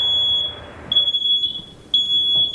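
A loud, high-pitched smoke alarm beeps in long repeating tones, three distinct shrill beeps with brief gaps, no talking.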